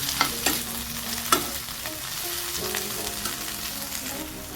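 Fenugreek leaves sautéing in a pan, a dense continuous sizzle with a spatula scraping and knocking against the metal several times, close and loud, no voices.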